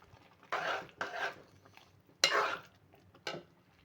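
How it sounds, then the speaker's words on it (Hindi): Stirring garam masala powder into a pumpkin dal brings a few separate spoon scrapes and clinks against the pot, each short and close, with near silence between them. "हम इसमें ऐड कर देंगे गरम मसाला पाउडर 1/2 टीस्पून और इसको इसमें मिक्स कर लेंगे।"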